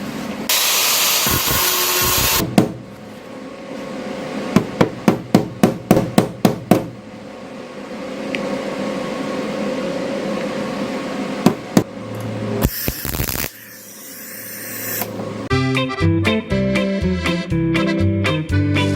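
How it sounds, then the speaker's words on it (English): Angle grinder working on the damaged metal body of a salvaged Mazda Miata being repaired for paint, a loud harsh grinding broken by a run of sharp rhythmic bangs, then dense clattering bursts near the end. "Out comes the grinder."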